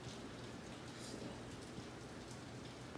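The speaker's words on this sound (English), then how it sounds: "It doesn't want to show up, but it's raining hard as hell." Hard rain pours down outside during a hurricane-like storm, a dense steady hiss of drops on surfaces, faint and distant throughout with no voices.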